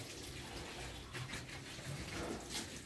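Water being drawn on a cold winter morning, a soft continuous rush of running water with faint splashy fluctuations, fairly quiet and steady throughout, with no talking.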